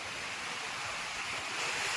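Rough sea water surges and splashes during net fishing on the coast, a constant broadband wash of waves with a windy hiss, fairly faint and steady, with no voices.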